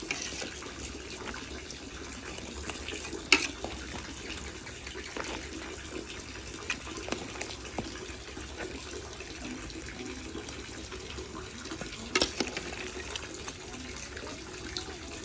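A pot of Thai spicy pork bone soup (tom saep leng) boils with a steady, close bubbling and hiss. Occasional small clinks and splashes rise above it.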